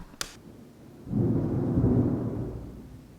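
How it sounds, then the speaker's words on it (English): A sharp click, then a deep rolling thunder swells and rumbles for about two seconds from an approaching storm, heard from indoors in a house, fading slowly with no talk. "it is about to storm. It's thundering right now."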